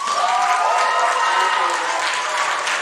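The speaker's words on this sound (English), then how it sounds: "Give a round of applause to Sarah Nicole Redmond." An audience at a convention gives a guest a loud, dense round of applause, continuous clapping with some crowd noise and cheering mixed in.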